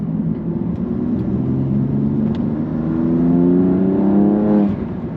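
BMW M2 engine driving out onto the Bedford track, a loud steady drone that rises in pitch as the car accelerates through a gear, then eases off near the end.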